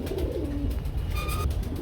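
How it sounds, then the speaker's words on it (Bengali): A soft, low pigeon coo against a constant background rumble, close by but faint. "বন্ধুরা আমরা এখানে দেখতে পাচ্ছি একটা সিঙ্গেল কবুতর আছে"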